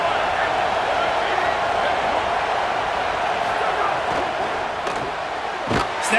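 A stadium crowd roars continuously at an Ohio State vs Notre Dame game in EA Sports College Football, a loud sustained wash of cheering with a few thumps near the end.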